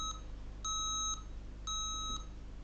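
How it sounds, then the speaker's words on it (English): Lenovo V110-15ISK laptop sounding error beeps with no RAM detected: three evenly spaced high electronic tones, each about half a second long, with short gaps, clear over a low steady hum. "I think this beeping means, because Lenovo is Chinese, you know, I think it means there is no RAM memory"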